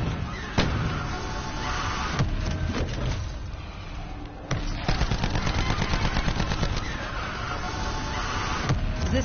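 Rapid gunfire from a firearm: dense, loud bursts of shots in quick succession with a couple of sharper single reports, filling the whole stretch with no speech.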